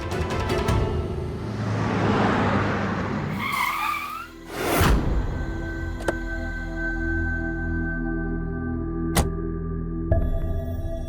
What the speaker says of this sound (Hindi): हमने कहा गाड़ी रोकिए